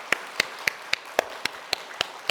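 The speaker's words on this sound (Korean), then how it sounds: "우리의 삶을 인도해 주신 하나님께 한번 감사의 박수를 한번 올려드리겠습니다" A church congregation claps together during a Sunday morning service, a sparse run of about nine sharp, evenly spaced claps that sound like a small group or a single pair of hands, fairly faint and with no talking.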